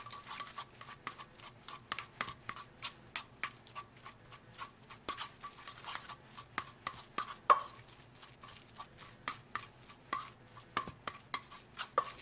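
Deviled egg filling being blended in a bowl, a quick run of light clicking and tapping strokes, close and steady, with no talking.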